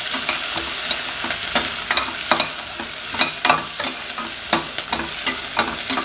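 A large chopped onion sautés in hot oil for a potato and peas kurma, a spatula scraping the pan in quick, uneven strokes over a soft, continuous sizzle.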